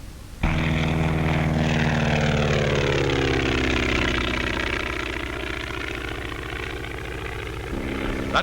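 A 1935 skywriting propeller plane flying Immelman turns, its engine droning loud and steady with a rising and falling pitch as it maneuvers, the sound continuous from start to finish after a sudden onset.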